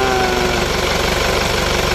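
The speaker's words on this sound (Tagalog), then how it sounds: "patayin yung susian kung kaya po mamatay yung makina" A vehicle engine idles loudly and evenly, still running after the key is turned off because of a broken wire, with a constant close-up rumble and vibration throughout.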